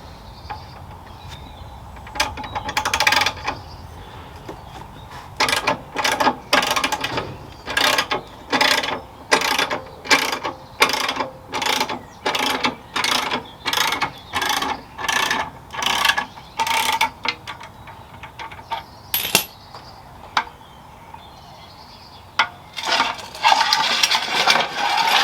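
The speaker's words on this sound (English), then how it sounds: "Let's lower the bike down." Ratchet mechanism clicking as a motorcycle, a Sport Glide, is lowered onto a cruiser dolly: a long run of evenly spaced loud metallic clicks, pausing briefly before resuming, with no voices.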